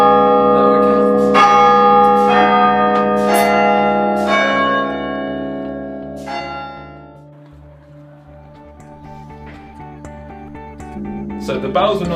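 Cathedral bells in a bell tower ring out in several loud, resonant strikes with long ringing decay, the tolls thinning out into a lingering hum before a faint final rise.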